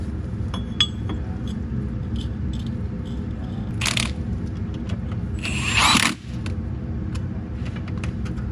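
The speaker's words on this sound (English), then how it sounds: "Now we can grab the new rotor and put it on." A new brake rotor goes onto the hub of an E30 BMW 325i during a brake upgrade. A few metallic clinks and a short scraping rattle sound over a steady background hum.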